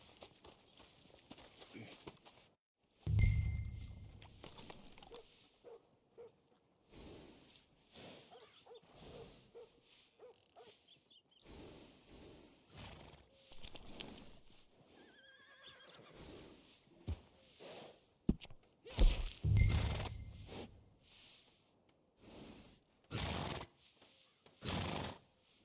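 A workhorse in the Western video game Red Dead Redemption 2 neighs loudly twice, with clip-clopping hooves and a dog barking at times, and voices speaking between the sounds.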